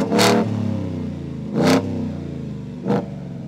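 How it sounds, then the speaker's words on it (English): A supercharged 5-liter V8 in a Ford F-150 FP700 idles with a deep burble, then revs sharply three times, each roar rising and falling back to idle. "just listen to this 5-liter V8 roar"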